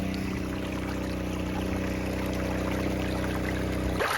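Steady rushing flow of water pouring out of a yard drain just cleared of a clog with a pressure washer sewer jetter, a constant near gush with a steady drone behind it.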